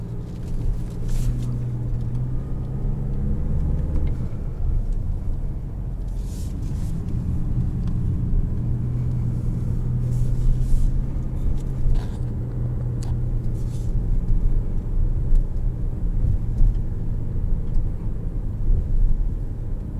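A 2021 Toyota RAV4 Prime SE under way, heard from inside as a steady low road and engine rumble throughout, with faint occasional ticks and no talking.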